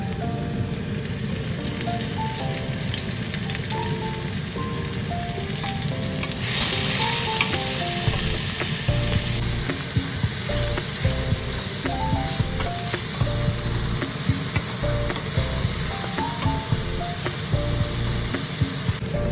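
Onions frying in a pan for Japanese fried rice, a steady loud sizzle throughout with occasional stirring scrapes, up close and without speech.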